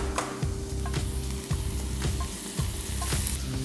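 Onions and a little sugar fry in a pan with potatoes, giving a steady close sizzle broken by periodic scraping stirs roughly every second.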